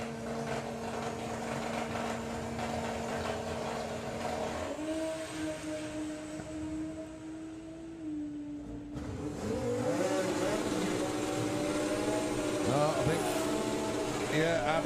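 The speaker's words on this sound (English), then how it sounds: "So the blue Golf will leave first, and then the Dragster will set off 4 seconds later." A blue VW Golf and a dragster launching at Santa Pod drag strip during a VW drag race, engines droning and rising in pitch with revs, a second engine joining partway through, with a commentator talking over it.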